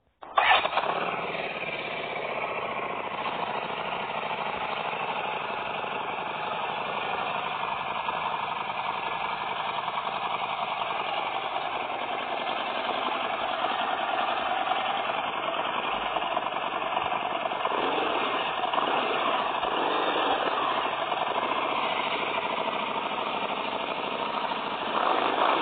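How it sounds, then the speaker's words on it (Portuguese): Harley Davidson Street 750 motorcycle engine idling steadily and close, a continuous even rumble with a constant drone holding for the whole stretch after a brief start, no voices present. "A próxima moto que eu vou mostrar pra vocês é a Harley Davidson Street 750."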